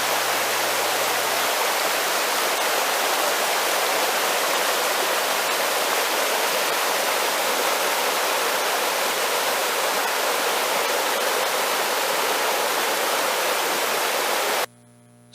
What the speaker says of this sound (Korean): 북한천 계곡 위쪽에서 바라본 산영루와 북한천 계곡의 물줄기의 모습입니다